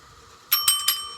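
A small bell on a face change Rubik's cube game is struck three times in quick succession, each ring bright and close, with the ringing tone lingering between and after the strikes.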